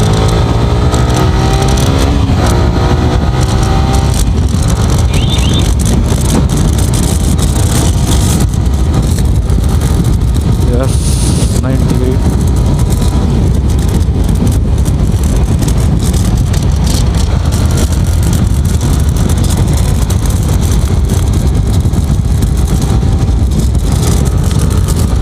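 A Yamaha R15 v3 motorcycle engine runs loud and close for a sustained stretch through a U-turn, revving and settling with a steady, rough drone and no talking.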